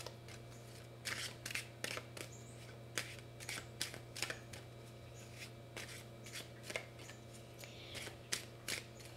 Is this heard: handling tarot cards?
yes